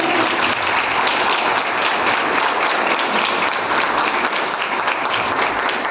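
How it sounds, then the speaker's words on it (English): Steady, dense applause from a large student audience at a startup challenge event, sustained and loud for the full span with no break. "round of applause for all the audience who interacted today"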